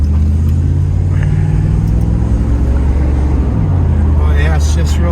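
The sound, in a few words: 1991 Pontiac Firebird Formula car running and driving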